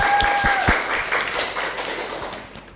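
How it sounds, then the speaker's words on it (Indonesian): A classroom of students applauds briefly after a group presentation, a burst of close clapping with a few sharp thumps that fades out within seconds. "Tepuk tangan dulu."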